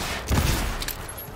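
A short burst of rapid gunfire from a weapon in the Cyberpunk 2077 video game, loud and close, with dense cracking shots fading within about a second.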